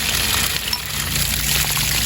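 Water draining out of a 6-gallon RV hot water heater, a steady broadband rush and pour that runs unbroken and fairly loud, close by, with no voices.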